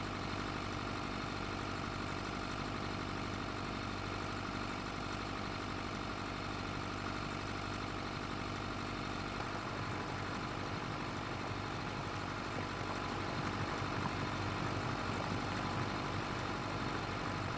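A tractor engine in the video game Farming Simulator 25 idles steadily at a low, even rumble, heard alone and unbroken throughout.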